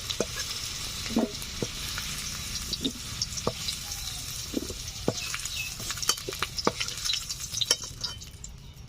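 Potatoes fry in oil in a wok, a steady sizzle with scattered clinks and scrapes of a spatula stirring, close and moderately loud, no voices.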